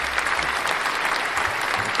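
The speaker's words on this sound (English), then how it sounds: "Big round of applause." Studio audience applause on a talk show, a steady loud wash of many hands clapping that holds evenly throughout.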